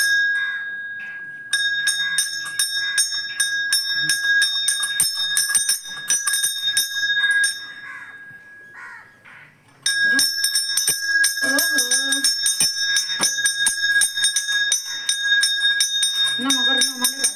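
A temple bell is rung over and over during a birthday visit to a Shiva temple, with steady metallic clangs in a fast rhythm, loud and close. Voices talk and chant around it, and there is a short pause midway.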